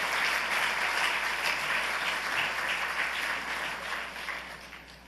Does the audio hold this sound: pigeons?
no